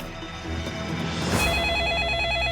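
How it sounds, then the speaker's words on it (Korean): A telephone rings with a repeating electronic trill over a steady background hum, fairly close and clear. "그때 전화가 막 또 왔어요"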